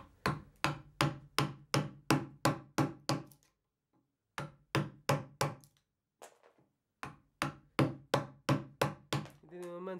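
A chisel hammered into wood in a harsh test, heard as loud, evenly spaced hammer blows in quick bursts separated by brief pauses.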